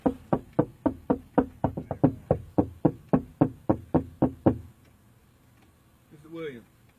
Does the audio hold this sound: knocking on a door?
yes